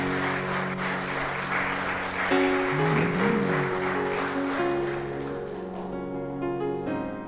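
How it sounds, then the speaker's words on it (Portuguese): Church congregation applauding loudly during a sermon, a dense wash of clapping that swells midway and tapers off, with sustained musical tones and singing underneath. "Você pode aplaudir bem forte a Ele?"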